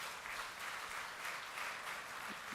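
Steady applause from an audience at Shabbat services honoring students, a dense even clatter of many hands clapping continuously throughout with no voices.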